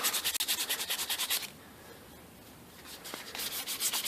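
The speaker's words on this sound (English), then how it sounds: "I'm trying to sand it and it's just rolling into beads" Sandpaper rubs back and forth over gummy, four-day-old spar urethane on Diamond Willow wood, a close, quick rhythmic scratching that pauses partway and then resumes.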